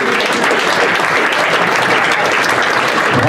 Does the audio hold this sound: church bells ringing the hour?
no